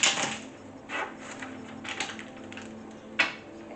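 Tarot cards are shuffled by hand in quiet, close bursts of soft papery rustling, ending with one sharp snap of the deck near the end; no one speaks.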